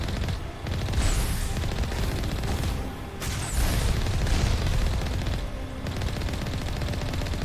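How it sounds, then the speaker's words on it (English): A missile barrage in the Mass Effect video game thunders as a dense, continuous volley of loud booming blasts and rapid explosive fire, surging and dipping briefly before rolling on. "Did not see that missile barrage at first."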